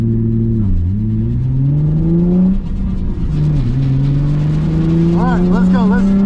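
Nissan Z sports car engine held at high revs while drifting through a corner, a loud close droning whine that dips and climbs with throttle changes, tire squeal rising near the end.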